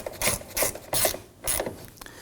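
Ratchet wrench snugging down the plastic taillight mounting fasteners on a 2015-2024 Nissan Murano, four quick rasping clicking bursts in a steady rhythm, close and clear with no talk.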